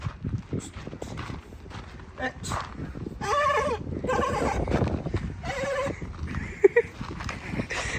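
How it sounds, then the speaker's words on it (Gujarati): A horse whinnies in several loud, wavering bursts, with hooves thudding and clattering nearby; a few voices speak in between. "રમણ ઘોડી કુદાઈ તો"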